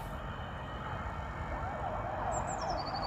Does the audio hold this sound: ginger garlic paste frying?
no